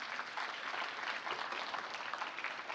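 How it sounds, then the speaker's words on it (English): A church congregation gives a woman another round of applause, a soft, distant, steady patter of many hands from a morning service audience. "Give her another round of applause."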